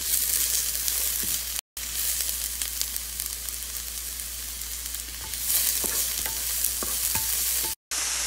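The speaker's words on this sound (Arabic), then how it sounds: "الان راح اضيف الماشروم" Mushrooms go into frying beef stroganoff, and a constant loud sizzle fills the pan while a spoon stirs and scrapes, with one or two brief drop-outs in the sound.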